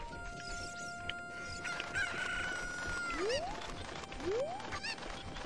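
A cucco chicken in Ocarina of Time Master Quest clucks and squawks repeatedly, with rising cries, over steady game background music.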